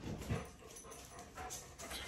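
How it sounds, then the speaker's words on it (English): A nearby dog pants and whimpers softly, with quick breaths and small whines coming through steady low background noise. "My dog keeps trying to eat the fabric."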